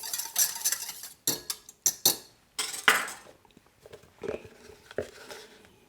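A whisk beats brandy cherry cake mixture with vanilla in a bowl, giving close, loud bursts of clattering strokes in uneven spurts separated by short pauses, with no voices.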